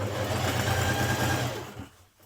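A sewing machine runs steadily while stitching a neckline seam on a summer top, a close, even motor drone that winds down and stops near the end.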